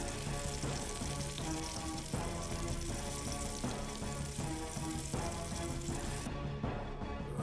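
Food sautéing in Iron Chef Wii, a steady loud sizzle with rhythmic bursts every second or so like stirring in the pan, continuous and close, with no talk.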